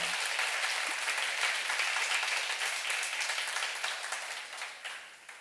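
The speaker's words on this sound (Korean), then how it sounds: "박수 한번 쳐보세요." Audience at a church seminar claps in a dense, sustained burst that fills the room, then gradually thins and fades toward the end.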